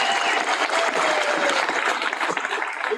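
A graduation audience applauds at an evening spring ceremony, steady dense clapping from a large crowd filling the hall, loud and continuous throughout.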